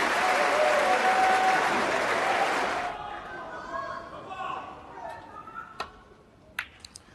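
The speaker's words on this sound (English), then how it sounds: "I don't think I've ever seen a standing ovation before the match is finished." A Wembley snooker crowd gives a standing ovation during the 2010 Masters final, loud sustained clapping and cheering that drops off after about three seconds into scattered claps and murmur, with a commentator speaking over it.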